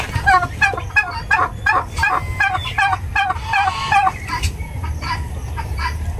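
Local turkeys gobble loudly and repeatedly in quick bursts, several birds including hens calling over one another nearby, with low farmyard noise beneath.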